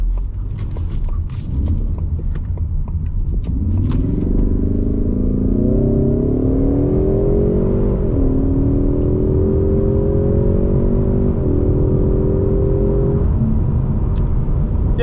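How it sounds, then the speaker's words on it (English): A 2021–2022 Ford Mustang EcoBoost with a turbocharged four-cylinder engine accelerates hard from inside the cabin, a loud, rising engine drone climbing steadily through two gear shifts before easing off near the end. "It's very loud. That's not really a bad thing because it's a four-cylinder engine."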